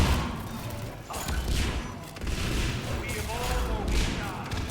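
Cluster grenades from Mass Effect 3 go off in a rapid burst of thuds and crashes, layered with gunfire-like pops over a few seconds while someone talks over the noise.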